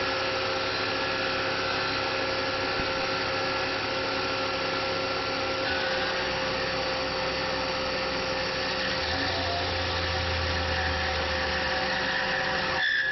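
A Tormach PCNC 1100 CNC mill cuts aluminum at full depth, its spindle holding a steady whining drone with harsh overtones as the cutter chatters, pitch shifting partway and a low rumble joining near the end, loud and continuous without speech.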